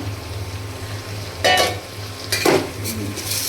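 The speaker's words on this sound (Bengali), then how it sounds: "চালটা ভাজতে ভাজতে কিন্তু অনেকটা পাতলা হয়ে যায়" Basmati rice frying in ghee with raisins and cashews sizzles over a low steady hum, with two loud scraping stirs of the spoon against the pan and lighter scrapes between them.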